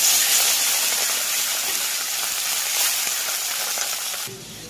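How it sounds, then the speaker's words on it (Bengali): Marinated fish fries in hot oil, a loud, steady, close sizzle that fills the whole stretch without talk, easing slightly near the end. "এবারে এই তেলের মধ্যে দিয়ে ভেজে নেব।"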